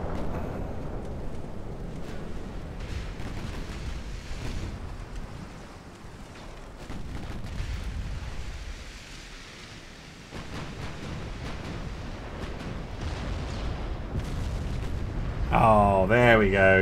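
Dreadnought naval guns fire in a video game, a heavy rumbling boom with a long rolling tail that fills the mix, loud and sustained, then a brief voice at the end.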